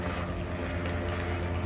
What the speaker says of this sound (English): No, it's a helicopter.